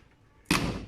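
A classic Mini's repaired steel car door slams shut once, a sharp loud thud after a brief quiet moment, ringing off quickly.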